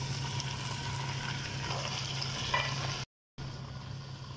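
Chicken pieces go into a hot pan of browned onion, garlic and ginger, giving a steady oily sizzle with faint stirring scrapes, then a brief dropout before the frying hiss resumes.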